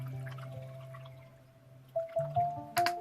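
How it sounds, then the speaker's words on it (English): Watercolor paint brush rinsed in a container of water, a few soft drips and small splashes near the end, quiet and close against a faint steady background hum. "now I'm going to rinse this brush off"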